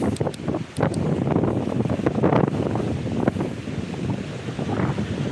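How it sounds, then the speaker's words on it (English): Steady, roaring wind on a cold beach buffets the microphone, with rumbling gusts and faint surf beneath, loud and continuous throughout. "It is too cold and windy."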